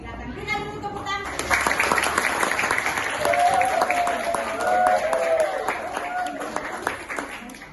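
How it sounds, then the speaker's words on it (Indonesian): Group applause in a classroom setting for a student team, Kelompok 2, as they take the floor; dense steady clapping fills the whole stretch while voices talk over it, and a raised voice cuts through in the middle. "Berikan dulu tepuk tangan."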